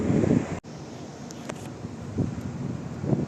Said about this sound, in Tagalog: Sobrang hangin. Hangin siya guys.